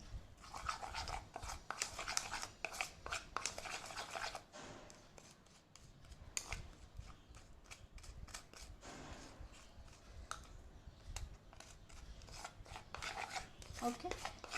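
Crushed Oreo being mixed into chocolate in a bowl: continuous close scraping and rasping strokes with scattered clicks, fairly faint, with no talk.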